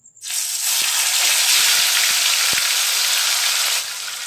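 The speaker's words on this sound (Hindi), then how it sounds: "इसमें मछली को हम फ्राई कर लेंगे" Fish frying in hot mustard oil gives a loud, steady sizzle that starts abruptly and holds evenly, with a few soft knocks underneath, then eases slightly near the end.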